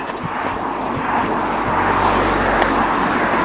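An Audi passes along a road near a shared hiking trail, a steady broadband rush of tyre and engine noise that swells gently toward the end, fairly close, with no talk over it.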